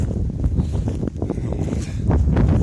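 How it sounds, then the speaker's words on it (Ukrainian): Gusts of wind buffet the microphone outdoors while grapevine seedlings are planted, with loud, low rumbling thumps and rustling, uneven bursts rising and falling throughout. "І чи буде шлепати нам трохи цей вітер"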